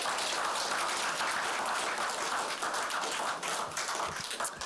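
Children applaud at a Chinese New Year celebration with dense, sustained clapping throughout, loud and close, thinning slightly toward the end.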